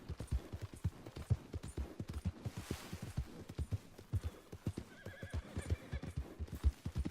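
A horse whinnies over a steady clip-clop of hooves in the video game Red Dead Redemption 2, loud and close, with a rhythmic trot running throughout.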